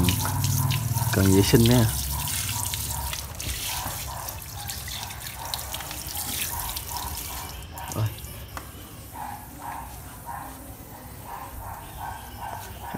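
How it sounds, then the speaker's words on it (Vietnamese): Water from a hose splashing and trickling onto a motorcycle to wet it before cleaning, a steady close wash with someone talking over it. "Rồi đầu tiên thì mình lấy vòi nước mình làm ướt cái khu vực mình"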